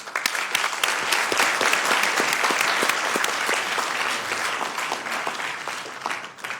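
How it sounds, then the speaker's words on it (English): Sustained applause from a Sacramento City Council meeting audience, dense steady clapping filling the room at full strength and easing slightly toward the end, with no talking over it. "All right, one more time, round of applause."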